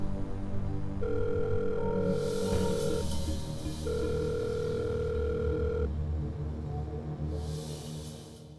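An unanswered phone call's ringback tone sounds in two long steady beeps separated by a pause; a faint hiss rises in the background.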